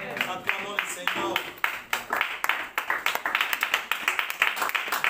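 A church congregation claps together to acclaim the Lord, a run of quick, sharp, fairly close handclaps growing denser and more rhythmic, with voices calling out over the start.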